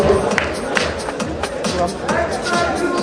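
Audience applause and crowd noise at a boxing exhibition bout, scattered claps and murmuring voices, with an announcer speaking over it.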